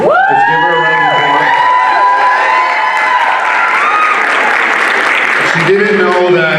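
An audience at a high school drama production of Alice in Wonderland claps loudly, with cheers, whoops and excited shouting voices layered over the applause throughout.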